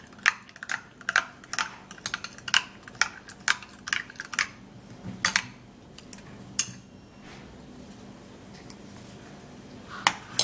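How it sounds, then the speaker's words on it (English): Egg mixture being stirred in a bowl, the utensil clicking and tapping against the sides in quick, irregular strokes, close and fairly crisp, with quieter gaps between bursts. "you have to stir and stir for a little while so that the egg and all of the ingredients can actually mix together"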